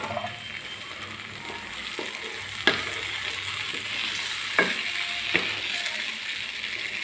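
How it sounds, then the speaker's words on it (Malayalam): Gravy mixture poured into a pan of sautéed onion and capsicum for chilli gobi sizzles softly and steadily, punctuated by a few sharp clicks and clinks of a utensil against the pan. "അതിനകത്തേക്ക് ഗ്രേവിക്കുള്ള കൂട്ട് ഒഴിച്ചു കൊടുക്കാം കേട്ടോ."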